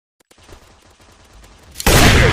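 Rapid gunfire from a MaskGun multiplayer shooter game, first a stuttering run of shots and then a sudden, very loud burst of continuous fire at the end.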